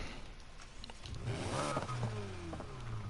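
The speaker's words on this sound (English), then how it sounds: "Okay, let's listen to the exhaust sound." A swapped, more powerful V8 in Need for Speed Heat revs up through its exhaust, a rising growl with a few harmonic sweeps swelling midway and holding loud to the end, with no one talking.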